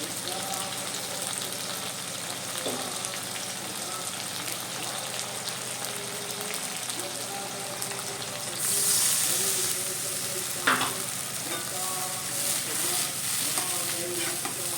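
Ginger, garlic, turmeric and chili paste fry in a pan with tomato added, a continuous close sizzle. Spatula scrapes and clinks come and go, with a louder burst of sizzling near the end and no talk.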